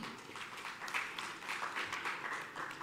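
Audience at a business executive breakfast applauding steadily, a dense even patter of many hands clapping throughout with no talk.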